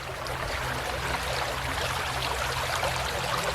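Water flowing steadily in Big Spring Creek, a small creek crossing a corner of a rural property, heard as a continuous, even rushing and babbling with no voices.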